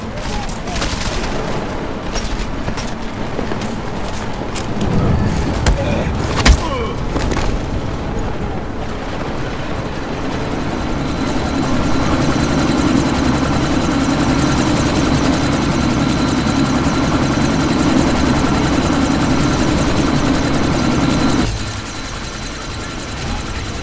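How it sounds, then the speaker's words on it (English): A helicopter in the Deus Ex: Mankind Divided game spins up for takeoff with a steady rotor and engine roar, while gunfire and thuds crackle in the first seconds before the noise builds and then drops away. "That chopper's about to take off!"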